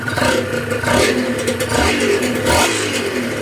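A Honda NSR150 two-stroke motorcycle engine revs up close, its buzzing note rising and falling in several throttle blips over a steady idle, with no talking.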